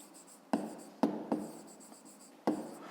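Chalk strokes tap and scrape across a classroom board as a fifth-grade math problem is written out, in four or five distinct bursts with short scratchy tails and no talking.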